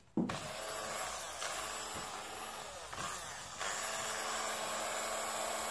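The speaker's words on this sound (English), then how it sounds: "And be careful with drilling into these parts." A small power drill bores an angled pin hole into a miniature part, its steady whine running almost the whole clip and shifting pitch a few times as pressure changes.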